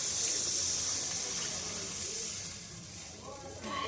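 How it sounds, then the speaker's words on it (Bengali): Water poured into a pan of spiced curry: a steady, close hiss and splash of pouring liquid that fades slightly toward the end, with no talk over it. "এবার আমি ঝোলের জন্য জল দেব।"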